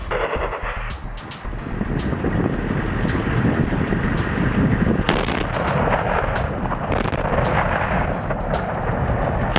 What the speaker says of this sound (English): Firing rocket.